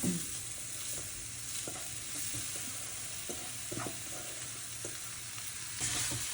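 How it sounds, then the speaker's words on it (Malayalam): Salted, boiled and crushed jackfruit frying in a hot pan gives a steady, dense sizzle, broken by soft scrapes and taps as it is stirred and mixed. No voices. "ഇളക്കി മിക്സ് ചെയ്തെടുക്കാം"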